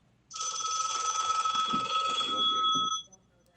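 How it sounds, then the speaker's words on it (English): An alarm clock ringing during a Zoom meeting, a loud, steady electronic bell tone with a rapid trill that rings continuously for about three seconds and then cuts off abruptly, with faint background murmur beneath. "That's your alarm clock, Rick?"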